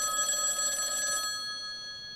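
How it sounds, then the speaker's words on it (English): A phone rings with a bright electronic bell tone as an AI voice assistant places a call. It sounds one clear burst that stops partway through and leaves a faint tail. "I'm going to give Megan Rich a call."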